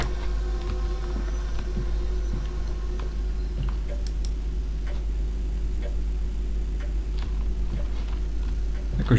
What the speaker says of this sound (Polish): źle chodzi ten zegar.